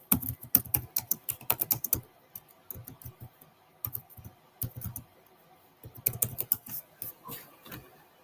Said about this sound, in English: What happened to my keyboard?